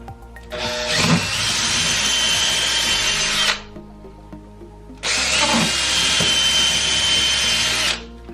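A power drill boring pilot holes through drywall for a TV wall mount, two sustained loud whirring runs of about three seconds each with a short pause between them, close by and with no talking.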